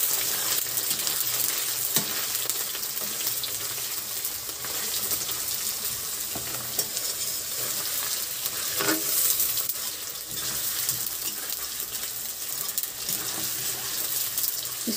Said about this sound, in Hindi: मैं ये पनीर को फ्राई कर लूँगी